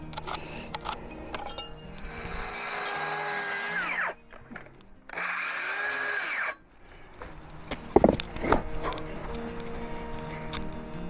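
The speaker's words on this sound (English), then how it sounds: "I'm still using the drill and the impact driver and securing each landscape timber as we go." Drill and impact driver fastening landscape timbers for a culvert headwall outdoors: two long, loud, steady whirring runs of a few seconds each, bracketed by clunks and wood-handling knocks.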